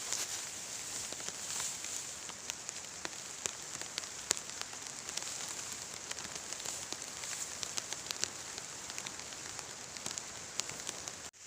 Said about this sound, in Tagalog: Ayan, umuulan naman dito.